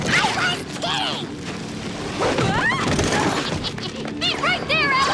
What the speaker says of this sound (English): Exploding curlers and bobby pin machine gun fire?